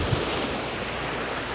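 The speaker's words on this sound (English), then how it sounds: "Enjoy the waves, let the waves crash." Ocean waves crash and wash on the shore in a steady, loud roar of surf with some wind, heard alone without any voices.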